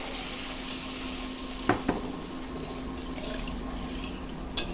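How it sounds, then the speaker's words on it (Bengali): Broth poured into a pan of fried spices: a continuous soft watery sizzle and pouring wash under a low steady hum, with a few faint utensil knocks near the pan. "মশলাটা আমার কষানো হয়ে গেছে, এখন ঝোল দিয়ে দিচ্ছি।"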